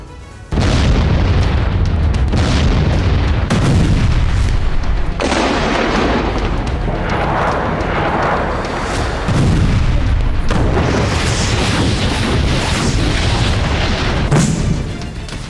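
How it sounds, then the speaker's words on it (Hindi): Explosions on a battlefield in Ukraine roar as heavy, continuous booms and blasts, loud and dense, with rumbling bursts overlapping throughout and no voices. "वॉर ग्राउंड में होते ये धमाके"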